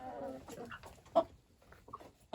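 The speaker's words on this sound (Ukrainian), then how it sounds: "Так, курка." Chicken clucking in a yard, a few short scattered clucks and squawks, one sharper call standing out, fairly close but soft with quiet gaps between.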